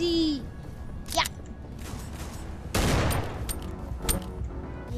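Gunfire crackles in a video game shootout: a quick zip, then a dense burst of shots with a few sharper cracks after, fairly quiet and set against steady game background noise.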